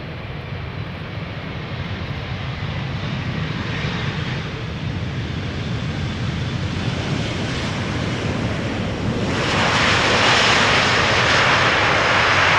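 A 20-year-old aircraft, registration PH-BQF, first flown in March 2004, passes loudly at Schiphol in summer weather, a steady jet roar that swells stronger and brighter near the end with no talk.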